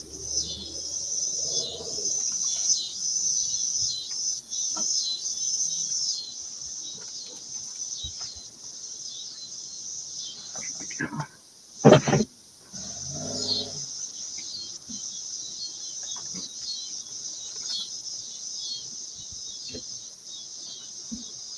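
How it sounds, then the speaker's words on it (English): Cicadas chirping outdoors as a steady high-pitched drone throughout, with a brief louder thump and bird cooing faintly mixed in. "Now I can totally hear that it is cicadas."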